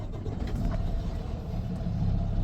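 A truck engine idles in a low, steady rumble, close and continuous without any change in pace.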